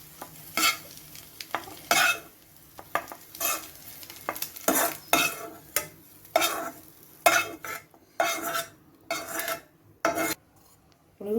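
Eggs frying in a pan crackle under repeated brisk stirring, with regular close scraping strokes of a utensil against the metal over a low sizzle.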